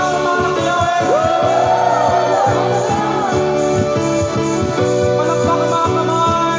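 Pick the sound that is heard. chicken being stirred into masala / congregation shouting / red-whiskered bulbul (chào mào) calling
congregation shouting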